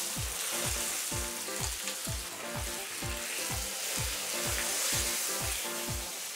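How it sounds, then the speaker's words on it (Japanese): Pork block searing in hot oil in a pan, a steady loud sizzle and crackle with regular rhythmic low thumps throughout, no voices. "こうやって最後の方にソテーしていく"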